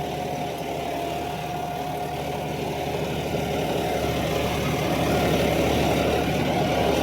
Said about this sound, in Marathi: दोन ट्रॅक्टर लावून पाळी घालत आहे मित्रांनो.